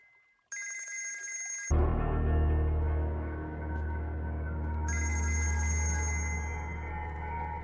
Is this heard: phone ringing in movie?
yes